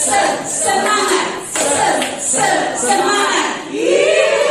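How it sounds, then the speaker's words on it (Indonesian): A group claps in rhythm while chanting a cheer together. Voices and short bursts of clapping alternate in repeated phrases. "Bisa ya sambil tepuk. Tepuk semangat cowboy."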